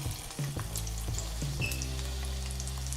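Padron peppers blistering in hot oil in a pan, a continuous close sizzle and crackle with a few quick clinks and shuffles early on, then a steady frying hiss alone.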